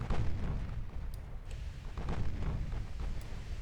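Naval gunfire in Ultimate Admiral: Dreadnoughts during a Gibraltar Strait blockade battle: dense, low rumbling booms from battleship and cruiser guns rolling continuously, with a few sharper cracks layered over a steady heavy roar.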